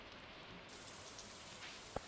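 Steady rain in the Stardew Valley video game, a soft continuous patter of drops filling the background, with a faint click near the end.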